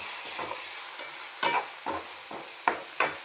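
Tomato and onion masala stirred in a pan, with a soft continuous sizzle and several distinct scraping strokes of the spoon in an uneven rhythm, close and fairly loud, no voices.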